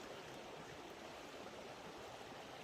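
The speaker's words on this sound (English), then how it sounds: "you just can't hardly beat the sound of running water" A creek runs steadily beside a campsite at night, a constant close rushing and babbling of water with no breaks and no voices.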